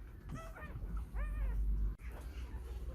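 A puppy whimpers and yips with two bursts of high, wavering cries over low handling noise and faint background sounds during a photo shoot, then quieter rustling.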